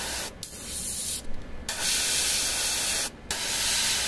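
An airbrush sprays Contrast paint onto a miniature in a loud, close, continuous hiss, broken by three short pauses where the trigger is released.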